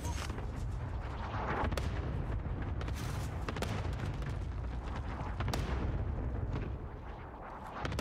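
Cluster strike in Call of Duty Warzone: a dense, sustained barrage of explosions and booms rumbling loudly for several seconds with no voices over it.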